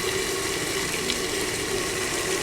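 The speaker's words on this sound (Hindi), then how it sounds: "ऐसे पानी डालते रहें थोड़ा थोड़ा, ताकि अच्छे तरीके से मसाला गल जाए।" Water poured a little at a time into a frying masala for aloo chicken shorba, a steady close hiss and bubbling sizzle that runs unbroken throughout, with no voices.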